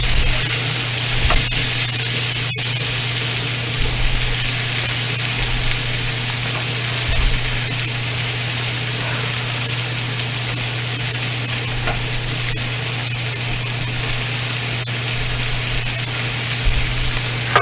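Potatoes and onions fry in bacon grease for an Irish breakfast hash, giving off a continuous even sizzle with a low steady hum and a few faint clicks, with no voices over it.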